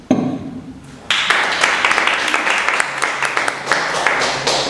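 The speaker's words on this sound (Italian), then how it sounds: "Come da applaudire per la piccola lezione di economia" An Italian TV studio audience breaks into sustained applause after a brief moment of quieter talk, the dense clapping swelling suddenly and staying full and close.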